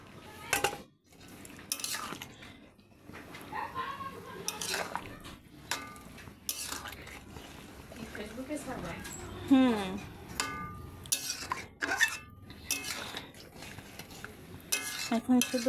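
Milk and a spice mix of garam masala powder, fried onions and kewra water go into a cooking pot and get stirred, with clinking and scraping of a metal spoon against the pot under a voice.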